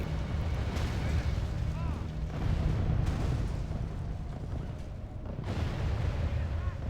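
Cannon artillery fire in the Total War Britannia battle, a series of deep booming blasts rolling over a dense, noisy battlefield din, with several heavy shots landing roughly a second or two apart.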